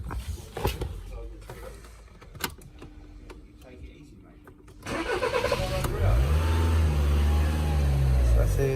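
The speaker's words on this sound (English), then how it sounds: "Just gonna give it a start to see if everything's fine. I prefer to keep my foot on the gas a little bit." A VW Golf MK6 GTD diesel engine cranks and catches after some clicks and key jingles, then idles with light throttle held, a loud steady close engine drone, with speech also present.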